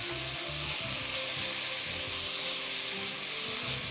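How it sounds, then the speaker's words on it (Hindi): Chicken breast fillet sizzles steadily in a hot pan with ginger and garlic for a Chinese-style soup, a constant close frying hiss with no voices. "चिकन को पका लीजिएगा पूरा पहले अदरक और लहसुन के साथ"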